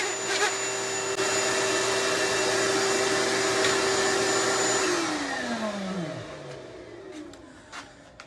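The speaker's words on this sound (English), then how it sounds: "when I cut this panel out, I cut my circles out first, and then I cut the whole thing out" A power tool cutting circles out of a wooden door panel whines at a steady pitch and then spins down, followed by a few light knocks and clatter, close and with no talk.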